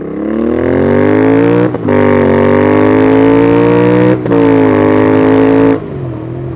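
A motorcycle accelerates hard from 0 to 100 km/h on a road in Taranaki, its loud, close engine note climbing through the gears with two brief dips at the shifts before easing off.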